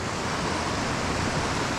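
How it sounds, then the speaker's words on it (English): Water tumbles down into a large puddle in a burn, a dense, steady rushing roar close by, with no voices. "listen to the water flowing down into this big puddle here"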